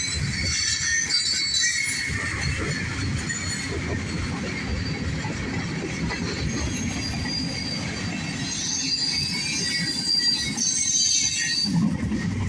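A northbound CSX mixed freight train rolls past close by, its steady rumble of wheels and railcars joined by squealing wheel flanges that hold for the whole passage, loud and continuous with no voices.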